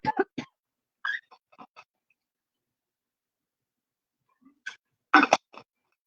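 A person coughs and clears their throat in a few short, close bursts separated by long silent gaps, with no talking.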